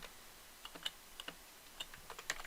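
Someone types on a computer keyboard in a quiet room, giving a quick, irregular run of soft, clicking keystrokes with short pauses.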